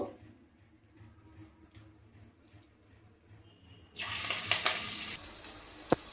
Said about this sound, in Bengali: তেলটা গরম হয়ে গেছে, এবার আমি পকোড়াগুলোকে ছেড়ে দেবো।